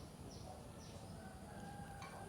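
Birds call at a pilgrimage site, with a rooster crowing faintly in the distance over a steady outdoor background hum.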